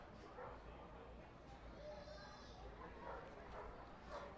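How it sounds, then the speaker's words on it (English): Dogs bark and yip faintly in the distance at a minor-league baseball stadium on a Bark in the Park night, scattered among crowd murmur and a commentator's voice. "Dogs barking today are Bark in the Park night here at FirstEnergy Stadium."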